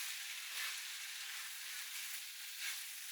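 King prawns hit a very hot curry mix and sizzle steadily, a bright, even crackling hiss with slight swells, alone and close.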